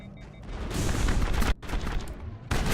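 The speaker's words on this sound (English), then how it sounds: "Then overheat our assault rifle." Sustained assault rifle fire in Mass Effect pours out in dense, loud bursts, stopping briefly and then resuming.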